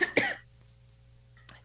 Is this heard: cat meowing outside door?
no